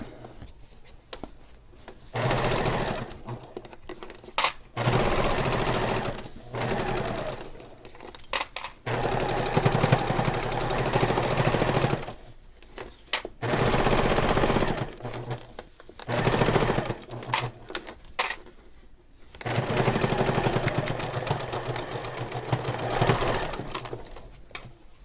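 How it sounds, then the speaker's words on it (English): A sewing machine stitches a handbag seam in several bursts of steady, fast needle chatter, separated by short pauses, close and loud with no talking. "And I'll sew this side as well."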